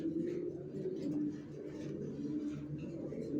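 Racer pigeons coo nearby in soft, continuous low rolling calls, several birds overlapping steadily.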